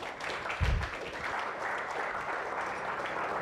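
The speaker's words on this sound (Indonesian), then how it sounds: "Tepuk tangan dong." A room full of people applauding at a stand-up comedy show, steady dense clapping that carries on throughout, with one heavy thump near the start.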